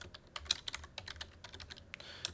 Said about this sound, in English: So I'm just typing home and then about and then products.